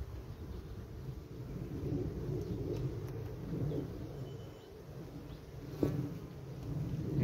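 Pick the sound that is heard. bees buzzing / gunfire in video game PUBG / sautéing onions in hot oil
bees buzzing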